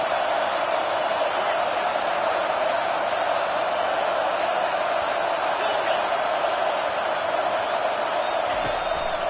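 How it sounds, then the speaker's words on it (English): Football stadium crowd roaring on third down, a loud, continuous wall of cheering and noise that holds steady throughout with no distinct voices on top. "Decibels rising as the crowd gets behind this defense on 3rd down"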